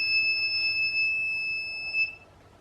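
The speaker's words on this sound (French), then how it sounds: "Le buzzer sonne, donc la température est en dessous du seuil de déclenchement de l'alarme." The piezo buzzer of an LM35 and LM324 temperature alarm circuit sounds a steady, piercing electronic tone for about two seconds, then cuts off, leaving quiet bench hum.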